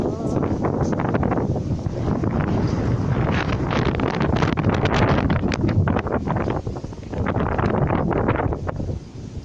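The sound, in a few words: heavy rain and wind storm in Hong Kong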